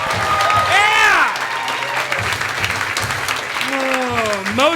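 A comedy club audience at Comedy On State applauds and cheers for a comedian, with a host's voice speaking loudly over the clapping.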